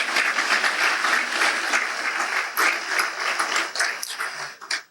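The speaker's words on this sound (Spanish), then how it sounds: "Los que están de acuerdo con eso le dan un fuerte aplauso al Señor." A church congregation claps loudly and continuously for the Lord, the applause swelling in irregular bursts before fading out at the end.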